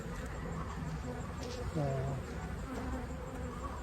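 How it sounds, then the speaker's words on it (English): Dense, steady buzzing of many honeybees inside a hive fills the scene close up, with a few louder drones passing near. "There's a ton of bees in here"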